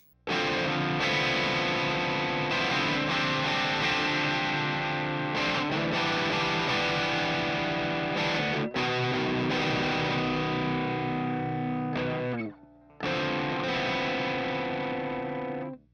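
Drop-tuned electric guitar on the humbucker through a gain channel, heavily distorted sustained chords ringing out loud and thick, with brief cutoffs and one short pause before a final chord.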